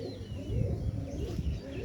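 Pigeons coo softly and steadily on a morning while the flock flies overhead, a low, throaty murmur of calls with no voices over it.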